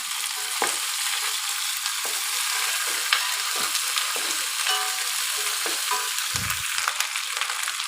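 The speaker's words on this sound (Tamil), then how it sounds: "இந்த வெண்டைக்காயும் போட்டு நல்லா வதக்கி விடலாம்." Okra sautés with onions and curry leaves in a hot pan, giving a steady, close sizzle and crackle throughout, with occasional scrapes and stirring knocks from a spoon.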